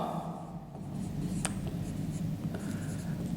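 Writing a heading on a classroom board during a math lesson, heard as faint, steady scratching and tapping strokes over a low room hum, with no one speaking.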